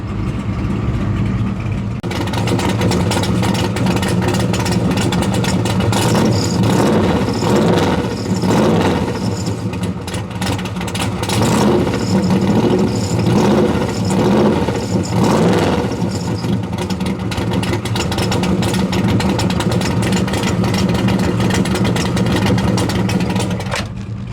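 A 1976 Chevrolet Corvette C3 engine idles steadily after start-up, a loud, continuous low rumble with slight rhythmic surges throughout and no talking over it.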